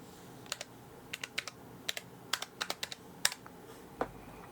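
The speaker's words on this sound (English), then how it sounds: "I'm going to type in Touch version 3." Typing on a computer keyboard, with about a dozen light, crisp key clicks in an irregular rhythm, close by and quiet against a faint background hiss, with no talking.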